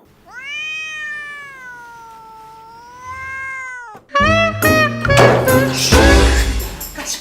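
A cat lets out one long, drawn-out, wavering meow, close and clear, followed by a louder jumble of clattering and commotion.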